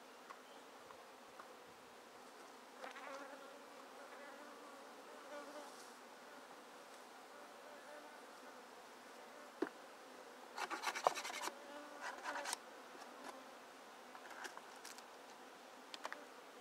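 Bees buzzing softly around a wooden pagoda hive, a faint steady hum with occasional light rubbing and wooden scraping as frames are handled.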